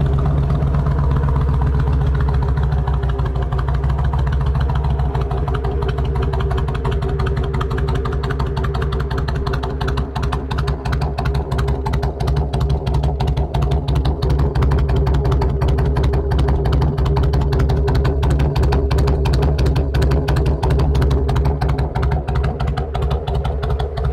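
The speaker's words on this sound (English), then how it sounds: "Got a real nice sound to it with those Vance & Hines exhausts" A 2007 Kawasaki Vulcan VN1600 with 28,650 miles and Vance & Hines exhausts idles steadily up close, its deep, loud rumble running throughout and picking up a faster, choppier pulse partway through.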